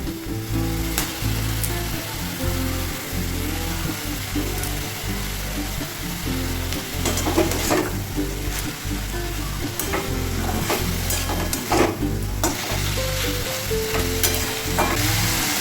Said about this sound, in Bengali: এবার এতে সবার শেষে আমি দিয়ে দেবো এই শ্রেডেড চিকেন, কিছুটা পরিমাণে, পুরোটা নয়।